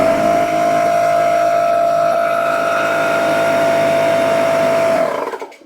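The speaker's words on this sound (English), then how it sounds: "let's go ahead and power on the air compressor and see what we get for our initial draw" An air compressor running on a 24-volt 4000-watt pure sine wave inverter, a loud steady motor drone with a strong constant hum, close and alone, then winding down at the end.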